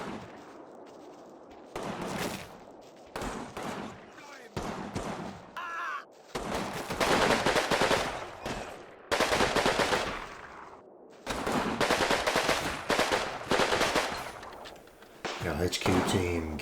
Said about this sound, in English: HQ team gives excellent covering fire, shooting between the legs of our assaulting infantry.